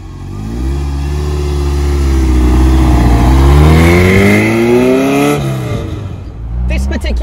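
A Sbarro Super 8, a V8 hatchback built on a Ferrari 308, revs loudly and close: the engine pitch climbs smoothly, holds near the peak, then falls away before a brief rattle at the end.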